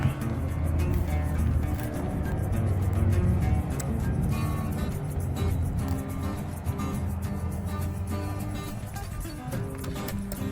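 Steady highway traffic from Interstate 5 beside an antique train display in Chehalis, Washington: a continuous, fairly loud rumble and roar of passing vehicles with no break.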